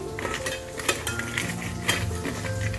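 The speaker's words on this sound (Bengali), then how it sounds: "পটলগুলোতে আমি নুন হলুদ হালকা অল্প করে চিনি সব কিছু দিয়ে আমি এটা মিক্সচার করে নিচ্ছি" Pointed gourd pieces being mixed with salt, turmeric and a little sugar, a spoon scraping and clinking against the bowl in irregular close strokes over a sizzling kitchen background.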